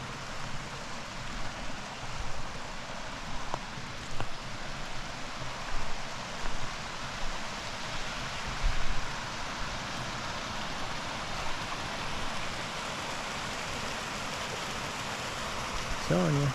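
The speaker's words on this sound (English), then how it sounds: "As you can see and hear, the river right down below us, or creek." A river or creek flowing below a campsite in Colorado, a soft continuous rushing wash heard from a little distance, with a few faint knocks and a brief rise near the end.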